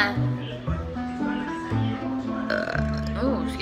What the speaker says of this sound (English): Oh, that was like a throw up burp.